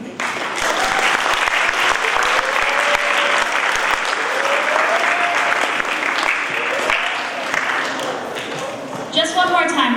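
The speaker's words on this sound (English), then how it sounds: "can everyone give a huge round of applause to these kids?" A school assembly audience gives sustained, loud applause for children after a Native American drumming performance, with cheers rising over the clapping and a brief clatter near the end.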